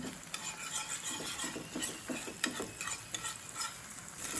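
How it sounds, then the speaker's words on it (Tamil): Eggs frying in hot oil for egg kottu, stirred with a metal ladle in a pan: steady close sizzle with repeated scraping and clinking strokes throughout, no talking. "எண்ணெய்க்குள்ளே இப்படி முட்டையை போட்டு இப்படி பொரியுவோம் இந்த இந்த கரண்டியால் கிண்டினீங்களா"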